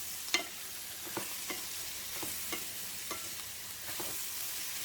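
Ridge gourd pieces frying in oil with turmeric in a pan, a soft continuous sizzle broken by repeated light clicks of a spoon stirring at a steady pace; no voices.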